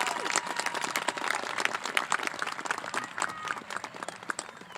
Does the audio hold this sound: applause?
yes